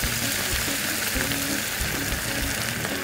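José Luis Ferrer white wine reduces in a hot pan, hissing in a dense, even sizzle that fills the short moment at close range without any speech.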